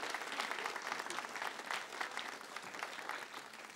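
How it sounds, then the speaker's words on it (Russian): A television studio audience applauds theatre performers at a Russian lotto broadcast, dense continuous clapping heard from a distance at low level, with no voices over it. "Мы аплодируем замечательным артистам, темпераментным, музыкальным людям."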